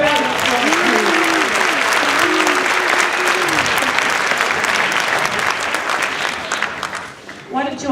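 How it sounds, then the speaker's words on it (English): Sustained audience applause fills a school district concert hall, dense and steady for several seconds before tapering off, with scattered voices and cheers mixed in. "Give them another round of applause."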